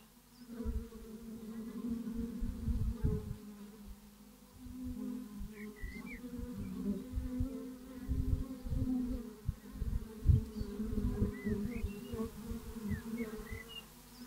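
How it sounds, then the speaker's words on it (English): A dense, low buzzing of many bees around a beehive, flying in and out through a hole in the back, rises and falls continuously, with faint bird chirps in the distance. "The bees fly in and out of the hive through a hole in the back."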